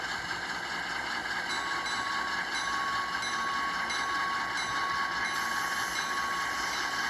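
A model train bell rings in steady repeated tones over a constant electronic hum, close and fairly loud.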